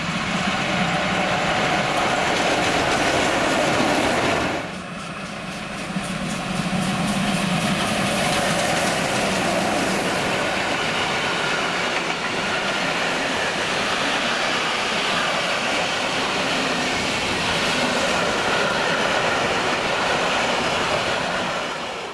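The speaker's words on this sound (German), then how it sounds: "Durchfahrt Bahnhof Kaufbeuern." A train passes through Kaufbeuern station in Germany, its steady, loud rail rumble and wheel noise filling the scene throughout, with a brief dip in level early on before the rolling continues.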